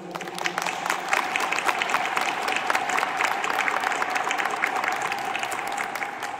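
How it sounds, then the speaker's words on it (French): Applause from a church congregation at a first communion Mass in Saint Martin, Arlon, a steady, dense clapping that carries on evenly at moderate distance with no voices over it. "Je crois qu'on peut les applaudir aussi."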